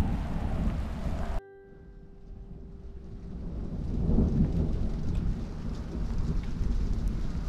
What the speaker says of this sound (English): Oop, thunder.